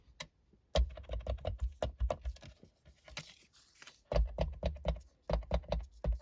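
A glue pen from Action is primed by tapping and pressing it against paper to bring the glue down, making a series of close, sharp clicking and tapping sounds in irregular bursts, with no talking.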